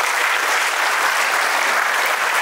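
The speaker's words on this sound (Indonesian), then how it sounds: "Tepuk tangan dong buat kita semua." An audience at a motivational talk gives a dense, loud, unbroken burst of applause, with many hands clapping at once in an even roar that fills the whole clip.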